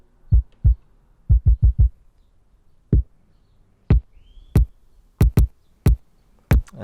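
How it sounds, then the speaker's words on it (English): A deep electronic kick drum from a beat production thumps alone in an uneven pattern, the punchy booming hits arriving in small clusters and then spread apart. "Here's my kick."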